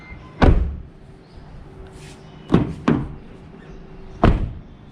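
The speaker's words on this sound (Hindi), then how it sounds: "दरवाजे की साउंड" A Proton Saga car door shuts three times, each a close, solid thud, with a short pause after the first and the last two closer together.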